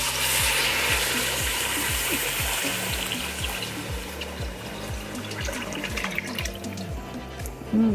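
Chicken broth poured into a soup pot for chickpea noodle soup runs as a steady, close splashing stream of liquid for the whole stretch, with no one talking.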